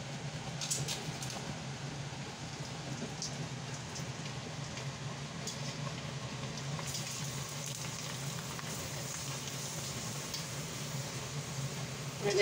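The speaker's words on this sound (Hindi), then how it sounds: "अब हम देखते हैं जैसे ही ऑयल गर्म होता है तो फिर हम अपने पापड़ फ्राई करते हैं" Homemade sooji and rice flour papad frying in hot oil in a kadhai, a steady faint sizzle and crackle running continuously throughout with no talking.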